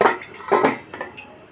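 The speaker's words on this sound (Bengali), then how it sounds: "এবার আমি নেড়ে এইটাকে হাই ফ্লেমে ঢাকা দিয়ে খানিকক্ষণের জন্য কষাবো" Chicken is stirred in a pot and covered with a lid, heard as a few close, loud metallic clanks and scrapes of utensil and lid on the pot in quick succession.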